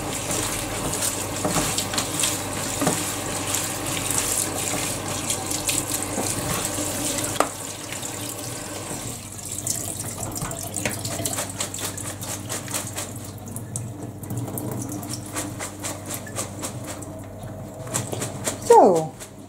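Water runs from a kitchen tap and drains while salad ingredients are rinsed, a continuous splashing stream with clicks and clatter on top, under a German-speaking voice.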